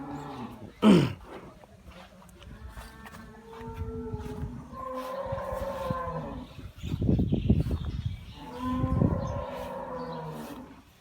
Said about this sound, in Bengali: গরুটা দেখতে পাচ্ছেন